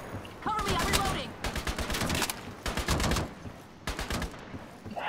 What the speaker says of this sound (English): Let's try a bit of rooftop shooting, shall we?